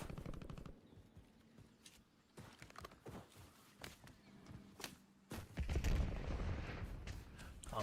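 Automatic gunfire in the shooter video game Warzone, rapid bursts and single shots rattling at a middle distance, with a louder, denser volley near the end.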